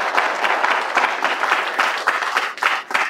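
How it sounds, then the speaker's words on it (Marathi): Loud, sustained applause from a satsang audience gathered for a devotional discourse honouring Hanuman, a dense wall of clapping that swells and dips slightly over three seconds with no voices on top. "हनुमंतरायासाठी एकदा जोरात टाळ्या व्हायला पाहिजे."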